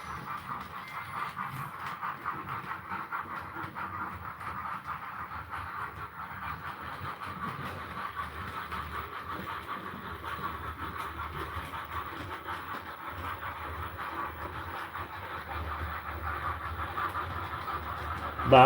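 Model train in live layout operation, a consist with a bobber caboose trailing, rumbling steadily with a continuous mechanical running hum and faint wheel clatter throughout, fairly even in level with no talk.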